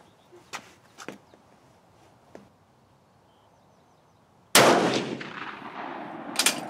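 A Swiss Model 1940 K31 rifle fired at a range, one loud, close, sharp gunshot with a ringing decay, followed by a second crack at the end, after faint clicks and handling noises.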